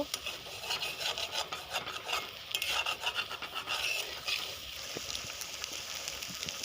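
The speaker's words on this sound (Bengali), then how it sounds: "1 মিনিটের মতো ভালো করে কড়াই নেড়ে চেড়ে নেব" Pasta stirred in a kadai, a quiet continuous scraping and rubbing of a spoon against the pan with a faint sizzle underneath and no voices.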